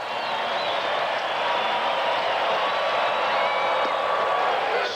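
A stadium crowd of about 49,000 at a Houston Astros versus Atlanta Braves baseball game roars steadily with the bases loaded, a dense, sustained cheer that stays loud throughout without pause.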